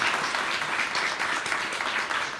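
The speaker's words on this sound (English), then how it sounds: "Huge applause." A crowd applauds continuously, a dense wash of many hands clapping at a steady level throughout.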